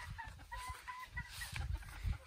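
An old rooster and his hen cluck in a farmyard, a quiet run of short repeated clucks at close range with low thumps and rustling underneath.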